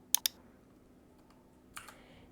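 A few keystrokes on a computer keyboard: two sharp clicks close together at the start, a faint tap, then a softer pair of clicks a moment later in an otherwise quiet room.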